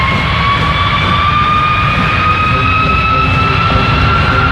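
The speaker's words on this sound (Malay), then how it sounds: "Dalam formasi Arrowhead Formation, kami persembahkan kepada anda pesawat Pilatus PC-7 Mark II." Several Pilatus PC-7 Mark II turboprop trainers pass overhead in arrowhead formation during a military parade flypast, a loud, steady engine drone with rising whine tones sustained throughout, crowd noise faintly underneath.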